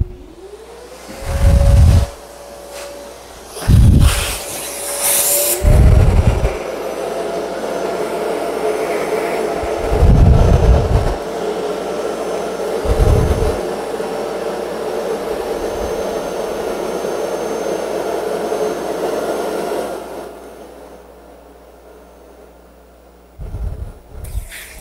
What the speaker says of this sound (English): Let's pull a lot of the air out with the vacuum first.